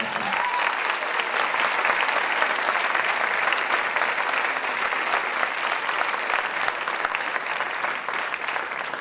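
A live audience at a concert gives sustained, even applause for about nine seconds, a thick wash of clapping with no voices over it.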